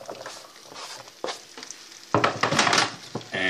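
Chopped vegetables hit melted butter in a hot pan, starting a quiet sizzle and stirring scrapes, then a loud burst of frying as more go in, continuing close by with no talking.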